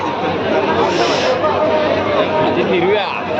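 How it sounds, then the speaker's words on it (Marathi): Dense crowd chatter fills the air at a busy village jatra fair in Kharepatan, with many overlapping voices forming a steady, loud babble throughout. "मित्रांनो गर्दी बघा किती इकडे."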